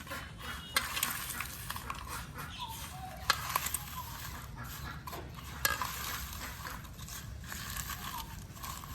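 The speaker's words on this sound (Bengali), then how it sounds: "লবণ নিলাম, মরিচটি ভালো করে মাখিয়ে নিই" Dried chilli being mixed with salt by hand in a village kitchen: steady rustling and squishing with scattered light clinks of a bowl or utensils, close and fairly quiet throughout.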